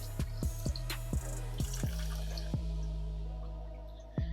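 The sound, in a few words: water dripping into fish tank for acclimating guppies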